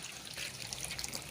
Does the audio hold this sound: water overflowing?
yes